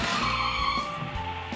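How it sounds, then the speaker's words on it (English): Toy remote-control car, voice-operated, braking hard and skidding, with a continuous whirring tire-scrub and motor sound lasting through the moment, brief pitch dips where it slows, close and fairly loud with no talking. "Car brake."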